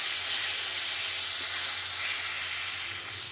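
Onions frying lightly in a pan while being mixed, a steady, close hiss running the whole time without a break, slightly fading toward the end, with no voices over it.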